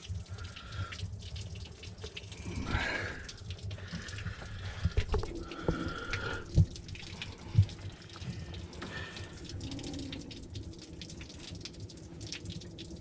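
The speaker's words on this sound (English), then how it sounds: "So this is going to flush the radiator" Water gushes steadily through the radiator of a 1974 Dodge W200 with a 318 engine during a flush, a continuous close splashing hiss with brief louder spurts.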